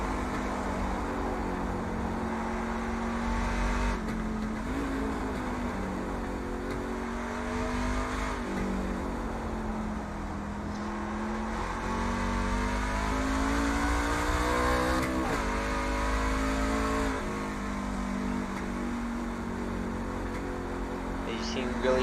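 A race truck engine drones loudly in an onboard lap in iRacing, rising and falling in pitch through shifts and corners over a long stretch, while a commentator talks over it.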